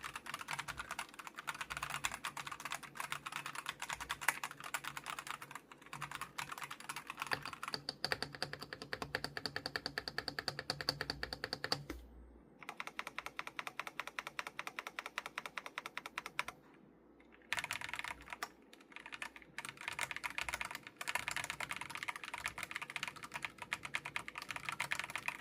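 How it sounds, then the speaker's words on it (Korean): Steady fast typing on a Razer BlackWidow V4 75% mechanical keyboard goes on throughout, dense and crisp with brief pauses, captured close but at low level and with no talking. "그래서 생각보다 조금 경쾌한 좀 키보드 소리가 들리네요."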